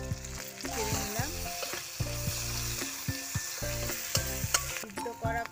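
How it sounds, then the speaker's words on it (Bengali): Whole green chillies with garlic and ginger paste fry in a pan, a continuous sizzle under prominent melodic background music throughout. "গোটা কাঁচা লঙ্কা দিলাম, রসুন বাটা দিলাম, আদা বাটা দিলাম, ছেড়ে নিলাম।"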